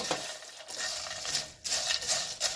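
Fried rice Chex being stirred in a pan over medium heat, with a short stretch of scraping and light rustling of the crispy pieces against the pan bottom in a few uneven strokes and a faint sizzle, close by, with no talk.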